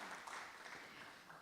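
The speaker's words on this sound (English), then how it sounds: "Please, big clap." An audience in a conference hall gives a short burst of applause, dense and fairly close, lasting just over a second.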